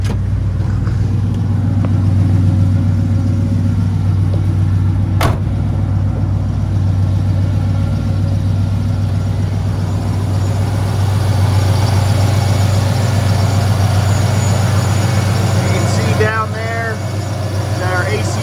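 A 1972 Chevrolet El Camino SS restomod with an LS1 V8 idles with its AC compressor engaged, a steady low rumble throughout while someone talks over it.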